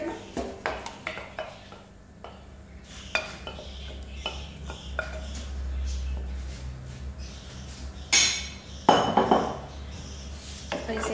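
Dahi chicken masala is stirred in a pan, producing close scraping and clinking of a spoon against metal with a soft background sizzle; a brief louder clatter comes near the end.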